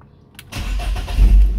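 Old BMW car engine, just repaired after a fuel leak, cranks briefly and then catches, settling into a loud, rumbling idle close by.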